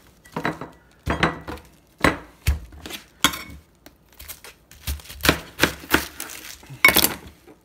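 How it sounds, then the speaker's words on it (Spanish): A knife chops through a whole head of cabbage, splitting it into four pieces through the core on a cutting board for beef soup. The sharp, close, fairly loud blade strikes come as a dozen or so irregular chops, with no talking. "lo voy a cortar en 4 pedazos. 4 pedazos cortándolo de aquí del medio de lo que es el corazón del"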